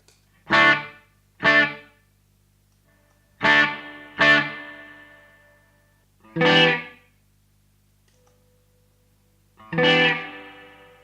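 Six separate guitar notes and chords played through a Carl Martin Headroom reverb pedal with a real spring tank ring out with gaps between them, each trailing into a splashy, metallic spring-reverb tail.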